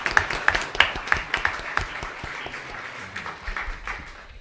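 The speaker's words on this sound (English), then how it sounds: "let's give another round of applause for our students and staff recognized" A round of applause for recognized students and staff at a school board meeting: sharp, close claps that start strong, then thin out and fade toward the end.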